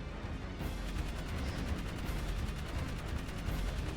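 Turret gunfire in the video game Jak 3, a dense, steady barrage of rapid shots running loud and continuous for the whole stretch over a busy game soundscape.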